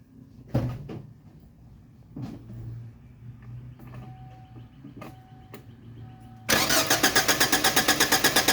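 A car engine with no spark is turned over: a few clunks and a door-like thump come first, then the starter cranks in a fast, loud, even rhythm and the engine never catches.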